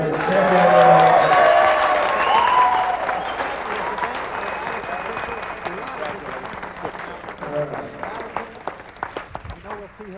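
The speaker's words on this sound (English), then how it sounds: "I really want to give a nice round of applause to the runner-up, Miss Allison Fisher, the great champion." A crowd at a women's pool championship final breaks into loud, sustained applause that starts strong and slowly thins out, with scattered claps and cheers near the end.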